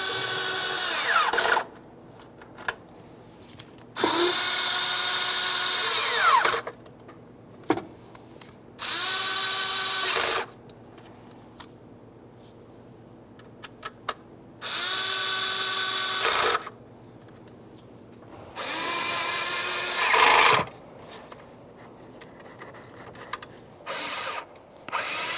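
Power tool snugging ignition coil bolts on a 3.5L V6 in a 2015-2020 Ford F-150, four separate loud whirring bursts of a few seconds each, with quiet clicks and handling noises between them.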